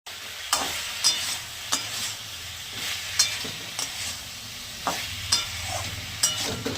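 Ginger, tomato and Kashmiri chili powder frying in a pan, a low continuous sizzle broken by regular sharp taps and scrapes of a spatula stirring, heard up close with no talking.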